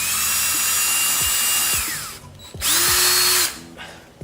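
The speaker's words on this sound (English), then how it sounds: "Now we'll take an 1/8 inch drill bit, center it on this hole" A power drill with a 1/8 inch bit whines at high speed, runs a couple of seconds, winds down, then spins up again briefly; close and loud.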